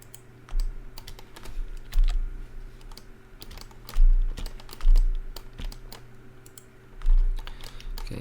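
Keyboard shortcuts typed on a computer keyboard as scattered clicky keystrokes, close by and alone, over a steady low hum, with a few heavier thumps marking individual presses.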